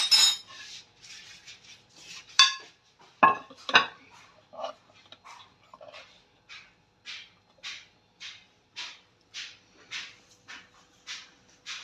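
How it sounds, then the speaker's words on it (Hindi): Chicken nuggets are moved onto a plate with a utensil, making a run of crisp clinks and taps that settle into a regular rhythm, close by and fairly clear with quiet gaps between. "एक प्लेट लूंगी और इसके अंदर ये मैं सारा निकाल लूंगी"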